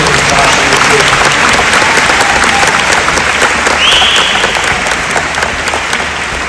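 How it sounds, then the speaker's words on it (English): A graduation ceremony audience claps at length in a hall, a dense and steady round of applause that holds from start to finish and eases off slightly near the end, loud and close. "Please join me in giving them a round of applause for all their work in this classroom."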